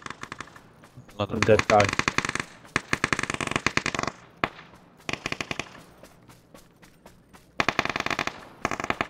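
Bursts of automatic gunfire from a PUBG match on the Sanhok map, rapid loud rattling volleys starting and stopping repeatedly with short gaps, while a player speaks briefly over the shooting.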